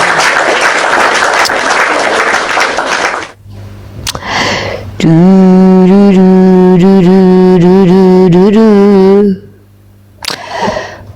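An audience breaks into loud applause for about three seconds, dense clapping that cuts off abruptly, followed by a short burst of clapping later amid a speaking voice and a sustained tonal sound.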